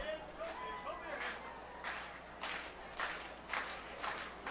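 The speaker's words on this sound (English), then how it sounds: "Very energetic crowd here today. I appreciate how lively everybody is right in front of the press box booth." A lively crowd at a minor-league baseball game, Portland Sea Dogs against Reading Fightin Phils, gives a steady murmur with periodic bursts of shouting and cheering. Heard from nearby, several swells come in over the general din.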